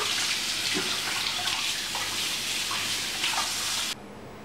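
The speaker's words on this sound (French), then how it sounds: "Pour enlever le surplus du sel, voilà. On la passe sous l'eau." Steady tap water runs over salted, marinated Norwegian-style salmon in a sink, a continuous close rushing stream that cuts off abruptly near the end.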